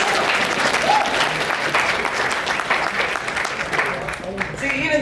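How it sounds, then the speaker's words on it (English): Steady applause from a convention crowd welcoming first-time attendees at the opening ceremony of HarmonyCon 2020, a dense wash of clapping filling the whole stretch with a voice talking over it. "Give them a hand of applause."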